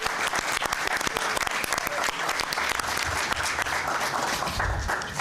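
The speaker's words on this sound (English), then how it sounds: "So let's give him a round of applause." A school board meeting audience applauds a 17-year-old student, steady moderately loud clapping from a room of people lasting the whole stretch, with faint background voices underneath.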